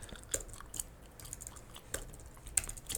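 Someone types on a computer keyboard in short irregular bursts of close, crisp key clicks, with no talking.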